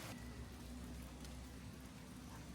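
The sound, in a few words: light drizzle of rain in the jungle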